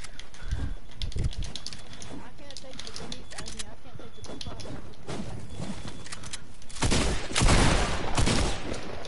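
Rapid video game gunfire rattles in clustered bursts, with separate sharp shots at first and then a dense, louder volley near the end, over a steady background of game noise.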